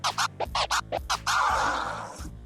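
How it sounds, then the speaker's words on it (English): Original flare scratch cut on a turntable with a crossfader: a quick series of chopped, stuttering record scratches, then one longer, smeared scratch sweep that fades out, loud and alone with no voice. "today we're going to be looking at the original flare, also known as the OG flare"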